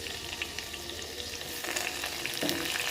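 Onion sizzles faintly in a hot pan for home cooking, a soft steady crackle with a few light stirring scrapes near the end.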